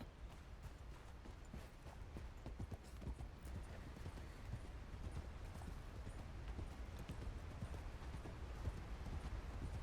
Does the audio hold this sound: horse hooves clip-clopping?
yes